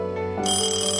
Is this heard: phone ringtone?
yes